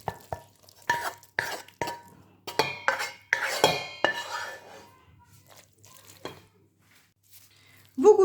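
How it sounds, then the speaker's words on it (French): Cooked stuffing being mixed with rice in a bowl for stuffed courgettes, a series of distinct spoon clinks and scrapes against the bowl that tapers to quiet, with faint talk. "Je mélange donc avec le riz."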